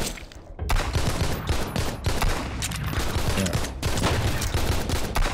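Desert Eagle pistol shots in a Sunkenland island shooter game, a string of sharp, loud cracks spaced irregularly over several seconds amid busy game background noise.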